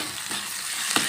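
Ginger and then garlic sauté in a hot pan with a bright, close sizzle, broken by a couple of short stirring scrapes.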